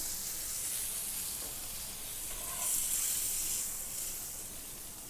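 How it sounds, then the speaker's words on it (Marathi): Pomfret fish shallow-frying in a little oil on a flat tawa gives a steady, close sizzle that swells briefly midway, with no one talking. "आता आपण याला पलटी करून घेणार आहोत आणि छान खरपूस असे भाजून घेणार आहोत"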